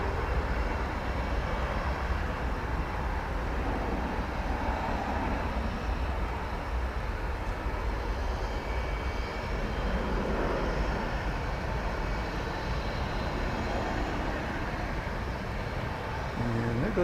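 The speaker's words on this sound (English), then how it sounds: "there goes that Mesa flight into parts unknown" A Mesa Airlines plane departing DFW airport gives off a steady, distant jet rumble that holds evenly at moderate loudness.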